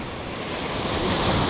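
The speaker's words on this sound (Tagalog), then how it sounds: "Malakas na pala alon. Malakas na alon." Strong sea waves surge and wash against the rocks at a slippery coastal fishing spot in Salalah, Oman, a steady roar of surf building slightly louder over a second and a half, mixed with wind buffeting the microphone.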